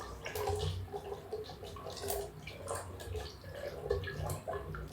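Water is poured over noodles in a continuous, close splashing trickle with small gurgles and drips, fairly soft and steady throughout.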